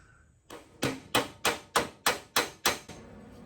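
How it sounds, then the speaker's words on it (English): Hammer and dolly work on car sheet metal, the ashtray section of a 1963 VW Beetle dash grafted into a 1972 Super Beetle: eight sharp, evenly spaced metallic blows, close and loud, with no talking. "hammer and dolly the ashtray section"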